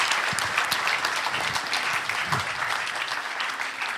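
An audience at a church celebration applauds to welcome guests, giving dense, steady clapping that fills the whole clip at close range with no talk over it.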